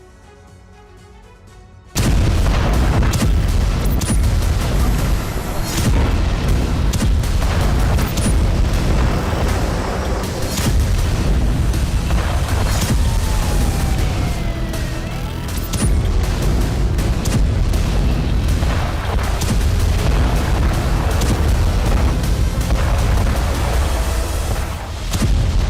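A rapid, dense barrage of loud booming explosions and blasts from an Israeli attack on Iranian cities, including Qom, overlapping almost continuously after a quiet start, some sharp cracks standing out.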